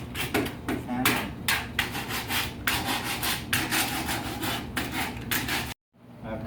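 Hand sanding of pallet wood for a bar: steady back-and-forth rasping strokes in a loose rhythm, close and fairly loud, stopping abruptly near the end.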